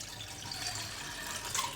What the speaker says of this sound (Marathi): तर आता आपल्याला ह्यामध्ये पाणी घालायचं आहे